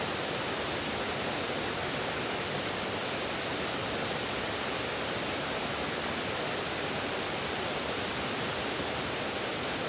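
Continuous hiss of rushing water from a stream or waterfall, even and unbroken throughout at a moderately loud level, with no one speaking.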